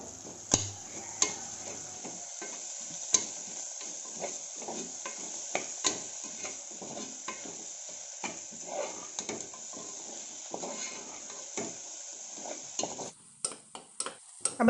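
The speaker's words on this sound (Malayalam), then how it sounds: "എന്നിട്ട് നല്ലോണം അതിൻ്റെ പച്ചമണം മാറണ വരെ നല്ലോണം നമ്മൾ ഇളക്കണം." Ginger garlic paste is stirred into frying onions in a pan for beef dum biryani, with repeated close scraping strokes over a steady sizzle and a few sharper utensil clinks near the end.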